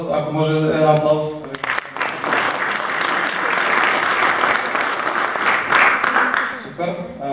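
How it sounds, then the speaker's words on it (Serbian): Audience applause at a humour and satire festival gala in Pljevlja, steady and full-bodied for several seconds, with a voice speaking before and after it. "Ako može, jedan aplauz."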